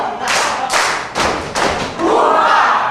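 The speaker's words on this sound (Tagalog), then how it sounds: "Dalawang palakpak, dalawang padyak, at isang malakas na sigaw na buha" Guests at a first birthday party give two loud claps and two heavy stomps, then burst into a sustained group shout, all close and forceful.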